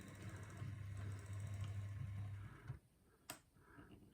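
A Rivarossi Cab Forward model locomotive runs smoothly and quietly on the track, giving a soft, steady mechanical hum that fades out partway, followed by a couple of faint clicks.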